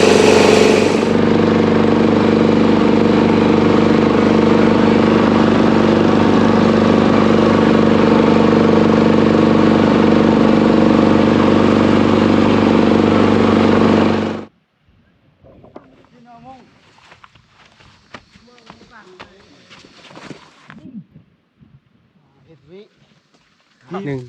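A small boat's engine drones loud and steady for a long stretch, then cuts off abruptly. Voices follow, talking over faint background sounds.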